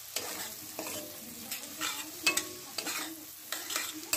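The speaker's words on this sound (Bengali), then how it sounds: "ভালো করে ভেজে নিলাম আমরা এটা।" Sliced onions browning in oil in a kadai for Hyderabadi chicken biryani, stirred with a spatula in steady repeated scrapes over a continuous close sizzle.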